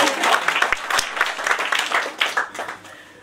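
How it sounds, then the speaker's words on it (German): A storytelling-night audience breaks into applause, a dense, fairly loud patter of clapping that thins out toward the end. "Applaus, Applaus."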